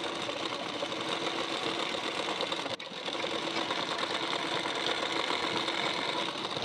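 A sewing machine runs steadily while stitching the side seam of a blouse, giving a close, even mechanical whirr with one brief dip in the middle before it carries on to the end.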